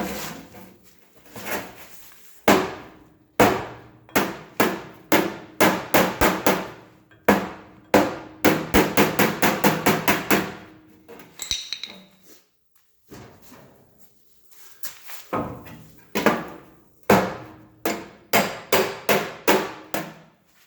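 A hammer and dolly knock dents out of sheet metal in rapid bursts of sharp metallic blows, with clusters of quick taps separated by short pauses, close and loud with no talking.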